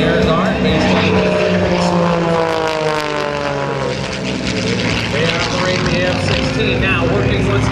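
A propeller aerobatic airplane flown by John Klatt at the 2010 Boston Portsmouth airshow drones loudly and continuously through a knife-edge spin, its engine pitch sliding as it passes, with an announcer talking over it.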